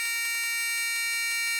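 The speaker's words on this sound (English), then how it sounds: "the buzzer is operating now" Buzzer in a photo cell item-counting logic circuit on a 12-volt supply, giving a rapid series of short, evenly spaced electronic beeps over a steady high tone, clear and alone with no talk.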